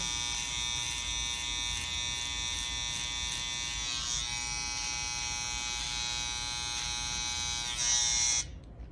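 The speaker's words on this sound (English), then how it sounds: "I'll take my little trimmer to go ahead and do that." A small electric hair trimmer buzzes steadily and close up while trimming the hair above a man's lip during a Peaky Blinders-style grooming session, a continuous high whine that cuts off abruptly near the end.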